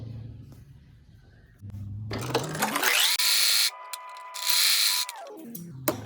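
Sewing machine stitching a kurti in two bursts, a short rev followed by a longer, steadier run of rapid needle clatter, with quiet handling sounds between and no speech.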